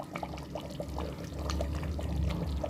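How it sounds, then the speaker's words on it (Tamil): Spice powder tipped into a thickened tamarind gravy with garlic and peanuts, sizzling and bubbling steadily close by with soft pouring and trickling texture, no voices. "நல்லா இப்போ அந்த பொடி பொப்பு போட்டுருணுங்க"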